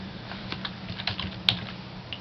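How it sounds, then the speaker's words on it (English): Close, quick, light clicking of keys as keywords are typed on a computer keyboard, in an irregular rapid rhythm with one sharper tap midway. "we'll type in some keywords."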